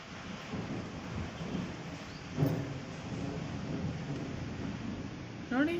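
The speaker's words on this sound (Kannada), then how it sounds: "ನೋಡಿ ಎಷ್ಟು ಜೋರಾಗಿ ಗುಡುಗತ್ತೆ, ನನಗೆ ಭಯ ಹಿಡಿಸುತ್ತೆ ಇದು ಮಳೆ ಕೂಡ." Steady rain with a low rumble of thunder rolling underneath, a brief sharper crack midway and another swell near the end, continuous and moderately close.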